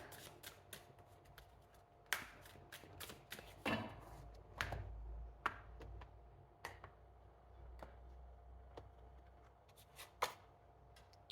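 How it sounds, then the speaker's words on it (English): Oracle cards being cut and shuffled by hand, giving a series of crisp riffling snaps and soft papery flutters at an irregular pace, close up in a quiet room with no talking. "Let's get one from this deck. This I'm going to cut. 3 shuffles as always."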